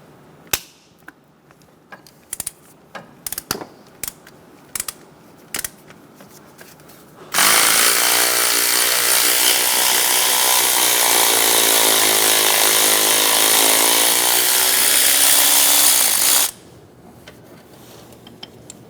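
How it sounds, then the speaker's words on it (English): A 14mm socket works the idler pulley bolt on a 2003-2007 Honda Accord engine: scattered sharp ratchet clicks, then a loud, steady power-tool whine holding for about nine seconds before cutting off abruptly. "Using a 14mm socket, remove the bolt for the idler pulley."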